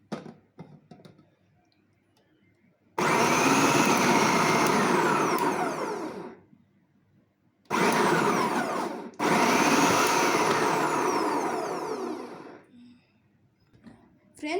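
Electric vegetable cutter slicing beetroot, a loud high whirring motor running in two long stretches separated by a short pause, with brief clicks at the start and a voice talking around it.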